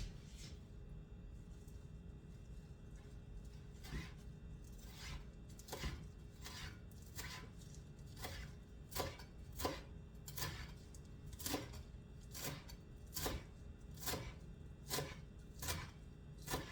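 Parsley being chopped with a knife on a board, a steady series of sharp, close taps that come faster and more regular after a slow start, over a low kitchen hum.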